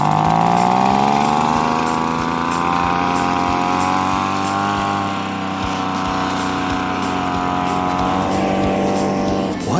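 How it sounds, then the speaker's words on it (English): A leaf blower clearing piles of leaves runs continuously, a loud, close, steady motor drone with a strong whining tone that dips slightly mid-way before settling back. No speech. "this leaf blower must be stronger than I thought"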